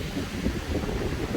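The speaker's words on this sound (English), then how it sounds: "It is indeed a very, very windy day." Strong wind buffets steadily with no break, a dense low rumbling roar pressing right against the microphone.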